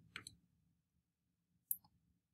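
A couple of quick computer mouse clicks, then one more sharp single click a moment later, faint and close in an otherwise quiet room.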